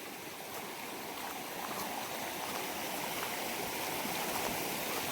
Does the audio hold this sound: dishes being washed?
no